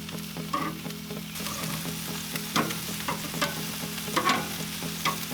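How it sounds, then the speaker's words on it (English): Chicken wings sizzle over direct heat on a Char-Griller charcoal grill, a steady close crackle with occasional louder pops and sputters, no voices. "Start grilling these guys off. Turn as necessary."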